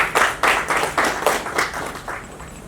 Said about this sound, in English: once again, a big round of applause for We.